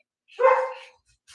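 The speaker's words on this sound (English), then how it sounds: "You hear my dogs playing?" A single short, sharp dog bark rings out close by in an otherwise quiet room.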